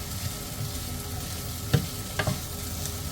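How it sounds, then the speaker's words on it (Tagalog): Finely chopped pork offal sautéing in a pan for Filipino bopis, a steady close sizzle with a couple of brief spatula scrapes and taps, no speech. "Igisa muna natin ng konti."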